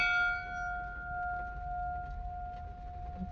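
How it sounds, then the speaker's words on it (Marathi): A large temple bell at a Shiva temple in Sangameshwar, with its struck ring already fading into a long sustained metallic hum that slowly dies away over a low background rumble. "चला आपण घंटी वाजवतो."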